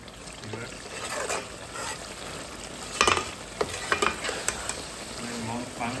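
Meat sautés in a pan with a continuous close sizzle, while a spatula stirs and scrapes in bursts, a cluster of sharper knocks coming toward the end.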